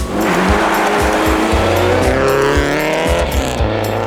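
Rally car racing hard along a gravel forest special stage in the Canadian Rally Championship, Perce Neige rally, engine roaring loud and close with rising revs, gear changes and tire squeal throughout.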